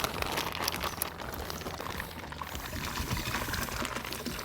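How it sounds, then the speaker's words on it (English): Hot water poured into bib bags of wine grape concentrate for home red winemaking, a steady, busy splashing stream, close and continuous throughout without talk. "Pour the water just into the bib bags."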